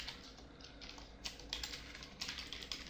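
Computer keyboard typing in short bursts of light, quiet key clicks at close range, with brief pauses between runs of keystrokes and no voices.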